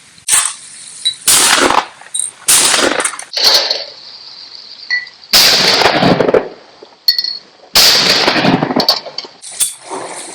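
Beretta 682 E Gold shotgun firing at a trap range, sharp loud blasts spaced a second or two apart, some in quick pairs, each trailing off into the open air.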